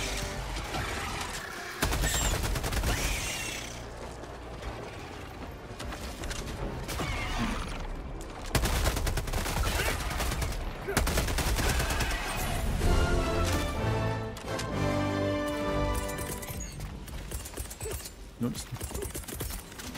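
Video game gunfire in a chaotic shootout, with rapid bursts of automatic fire, heavy blasts and crashes layered with mechanical clanks and music, loud and dense throughout, with someone talking over it.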